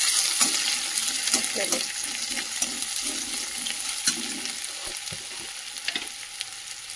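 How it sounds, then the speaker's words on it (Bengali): Vegetable peels frying in a pan hiss with a steady sizzle while a spatula stirs and scrapes them in uneven strokes, close and fairly loud, with no voices. "এগুলোকে একটু আগে নাড়াচাড়া করে নিতে হবে।"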